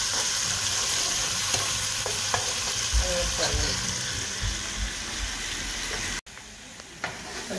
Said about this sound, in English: So when we add the macaroni to the vegetable, then we will start to mix it up.